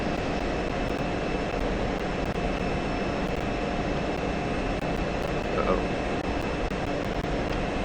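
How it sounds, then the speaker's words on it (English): An F-16's jet engine in the DCS flight simulator makes a steady, dense roar with a thin high whine, heard from the cockpit while the aircraft is buffeted by a tanker's turbulence. Faint clicks and a brief blip come through near the end. "here I am in the F-16 getting beat up by the 135's turbulence"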